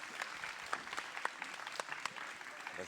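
Audience applause at a school prize-giving ceremony honoring the catering and maintenance staff, a steady patter of many clapping hands with sharp individual claps standing out, moderately distant.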